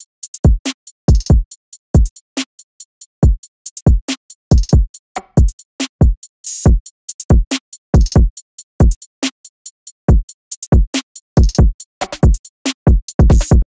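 A programmed hip-hop drum beat in the Fruity Loops style, with the drum bus left unsaturated and unclipped: punchy kick and snare hits fall in a steady, busy rhythm, loud and close, with crisp hi-hat ticks between them.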